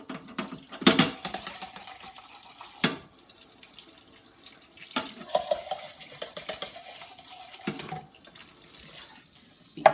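Water runs into a kitchen sink as beans are drained, a steady close splashing broken by louder gushes and clatters, with no talking over it.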